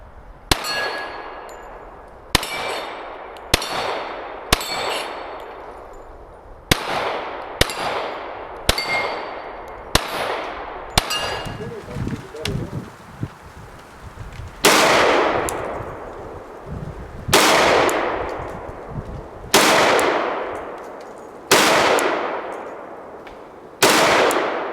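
A Glock 20 10mm handgun fires a string of loud, sharp reports, some in quick succession and some spaced a second or two apart, each with a ringing metallic echo typical of an outdoor range.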